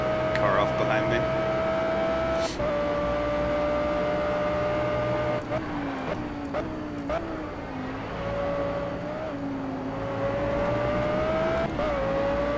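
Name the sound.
Audi R8 GT3 race car engine in Project Cars video game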